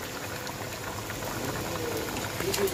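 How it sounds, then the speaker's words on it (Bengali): Fish added to a ridge gourd curry simmering in a village kitchen, a steady soft bubbling and gentle liquid churn, fairly quiet and continuous with no talk over it. "এই যে মাছ ছেড়ে দিচ্ছি, মাছ ছেড়ে দিলে আরও কালারটা খুব সুন্দর আসবে।"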